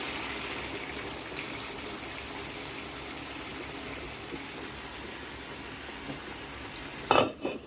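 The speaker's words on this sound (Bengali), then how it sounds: "দেখেন কি সুন্দর টকবক করে বলক উঠতেছে" A large pot of Aair fish curry from the Padma River simmers at a rolling boil, with a steady low bubbling and hiss throughout and a brief clatter near the end.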